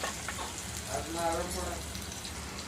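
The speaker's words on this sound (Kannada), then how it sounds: "ಎಲ್ಲ ಹಾಕಿ ಫ್ರೈ ಮಾಡಬೇಕು" Onions fry in a pan with a soft, steady crackle that stays low and even throughout.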